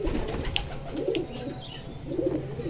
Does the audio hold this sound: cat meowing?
no